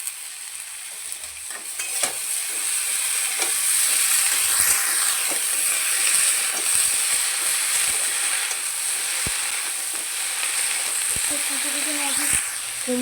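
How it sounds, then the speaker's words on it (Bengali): Potato and eggplant frying lightly in a pan, with boiled pumpkin greens and turmeric added, giving a continuous sizzle and hiss broken by occasional scrapes and stirring clicks. "আলু আর বেগুনটা হালকা করে একটু ভেজে নিচ্ছি।"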